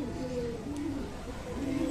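Firozpuri pigeons cooing softly in a low, wavering murmur that continues steadily through the moment, with a faint voice in the background.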